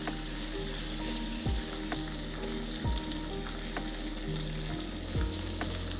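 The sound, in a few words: Wagyu steak sizzling in a pan after flipping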